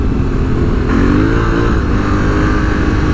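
A 2022 Honda Africa Twin motorcycle engine drones loud and close while the bike drifts, its pitch wavering and rising slightly as the rider works the throttle, with no voices.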